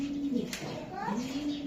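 A racing pigeon coos a few times at close range, soft and throaty, with a brief bird chirp in between.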